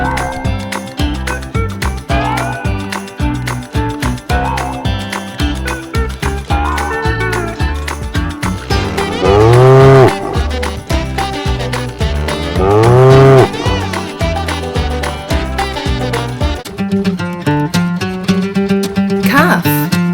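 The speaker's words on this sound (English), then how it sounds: "Cow." A cow moos repeatedly over a busy, continuous musical backing, with two longer, louder low moos standing out among the layered tones; presented as part of a toddler farm-animal sound lesson.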